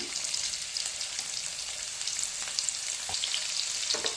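Garlic sizzling in hot oil with whole cumin and coriander seeds, a steady close frying hiss with a few brief louder pops, no voices.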